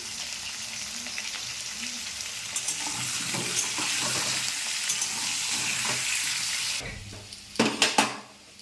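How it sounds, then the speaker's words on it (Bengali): Steady hissing sizzle of potatoes frying in hot oil, with a few sharp clanks of a utensil against the pan near the end. "তেল গরম হয়ে গেছে, আলুগুলো আমি এবার ভেজে নেব।"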